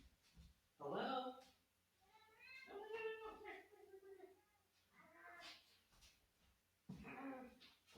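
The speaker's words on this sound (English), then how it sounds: "let's grab my cat" A pet cat meows several times in a quiet room, short rising and falling cries spaced apart, close to the microphone.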